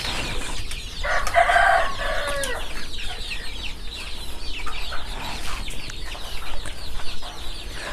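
Chickens cluck and crow nearby in a small room set up as a starter poultry farm, a busy overlapping chorus of clucks and calls with a loud crow early on, continuing throughout without talking.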